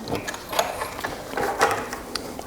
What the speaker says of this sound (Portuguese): fazer um pesponto para a frente e para trás